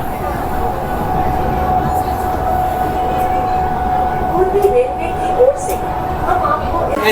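Steady rumbling train noise with a constant hum and rattling, continuous and fairly loud throughout, heard riding inside an AC EMU local train leaving Naihati on the Sealdah–Ranaghat line.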